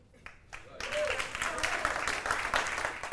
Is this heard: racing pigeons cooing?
no